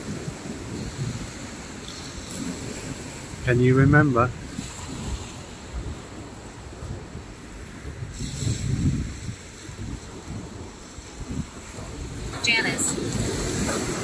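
Wind and breaking waves wash across a beach on Worthing sea front, a steady low roar with gusts, while someone speaks close to the microphone in short bursts over the surf.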